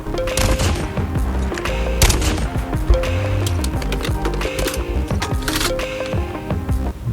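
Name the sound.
gunfire from anime gun skin in Call of Duty Mobile, video game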